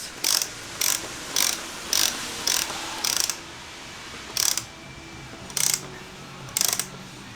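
A 1/2 inch ratchet clicks in quick, repeated bursts while running down a fastener on a Jeep Grand Cherokee during an oil change, about nine close, crisp strokes with short pauses between them.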